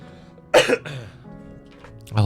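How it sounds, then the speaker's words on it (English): A person coughs hard in a short burst, followed by a softer throat-clearing cough near the end, close and loud indoors. "Oh, this damn cough."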